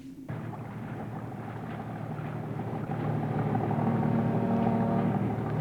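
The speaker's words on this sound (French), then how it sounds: "je crois bien que c'est une péniche" Barge engine on a river, approaching from afar; a steady low rumbling drone that grows slightly louder as it nears, with no voices.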